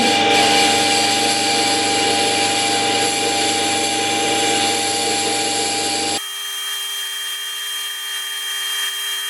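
Carving gouge steel, soft like sheet metal, ground on a large grinding stone with many small sparks: a loud, steady broadband grinding hiss that drops abruptly to a quieter, thinner whir after about six seconds.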